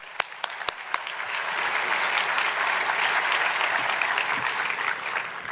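An audience at a film festival awards event applauds to welcome host Dave Karger. A few sharp early claps swell into sustained, dense clapping from a large crowd that holds steady to the end.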